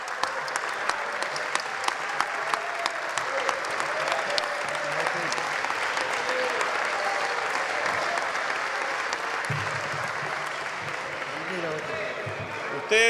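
Applause fills a legislative chamber during a ministerial briefing session, a dense, sustained clapping from many people with scattered shouts and murmurs, fading slightly toward the end.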